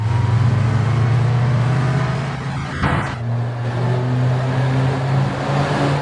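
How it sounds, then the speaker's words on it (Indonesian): A red Maserati GranTurismo pulls up, its engine a steady low hum that briefly swells and shifts mid-way before settling back, close and fairly loud with no talk. "datanglah Jae-chol dengan menggunakan mobil merah yang berjenis Maserati Gran Turismo"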